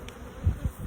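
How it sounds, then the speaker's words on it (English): Young honey bees in a hive where they have just begun building wax give off a steady, close, droning buzz that swells slightly in the second half. "So that's pretty much it for this bee colony."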